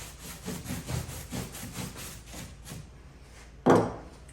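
A brush is stroked repeatedly across the surface of a 17th century Charles II oak coffer as finish is worked in, giving a series of soft scrubbing strokes at close range, then a brief louder knock near the end.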